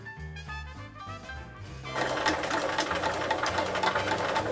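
A sewing machine top-stitches close to a fabric edge with a long stitch, its fast even whir starting near the two-second mark over faint background music.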